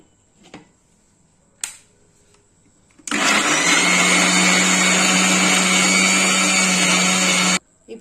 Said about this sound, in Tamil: இப்போ நைஸாக அரைச்சிக்கலாம் பனானா,